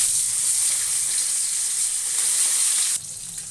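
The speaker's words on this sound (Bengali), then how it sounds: "তেলটা গরম হয়ে গেছে, মাছটা ভেজে নেব।" Fish frying in hot oil in a home kitchen, where garlic, tomato, eggplant and potato were fried beforehand; a steady close hiss and crackle of sizzling runs throughout, dropping slightly in level near the end.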